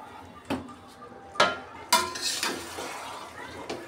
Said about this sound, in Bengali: এখন আমি কিছুক্ষণ ঢাকনা দিয়ে ঢেকে দিলাম